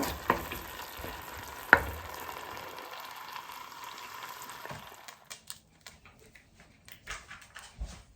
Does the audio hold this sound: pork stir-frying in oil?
yes